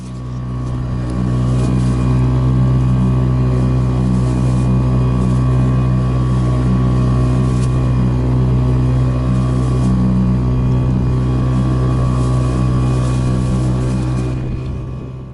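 An outboard motor drones loudly and continuously close by, a steady heavy hum with no voices over it.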